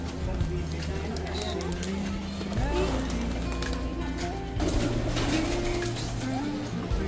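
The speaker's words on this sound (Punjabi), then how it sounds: "ਜਿਨ੍ਹਾਂ ਦਾ 4-500 ਕਬੂਤਰ ਕਹਿੰਦੇ ਰੱਖਿਆ ਹੋਇਆ ਜੀ" Pigeons from a rooftop flock of four to five hundred birds coo in low, throaty bursts over a busy backdrop of chatter and movement, with talk running under the birds.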